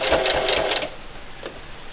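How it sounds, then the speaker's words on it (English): A sewing machine stitches a can koozie in a short, fast burst of mechanical whirring. The sound stops after under a second, then a brief faint mechanical noise follows, close and clear. "and we're going to start sewing."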